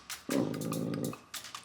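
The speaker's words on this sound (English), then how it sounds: "it's a bit scary when he's barking in your face like that" A large, angry dog lets out one sustained, deep growl at close range, nearly a second long, with brief quieter sounds before and after it.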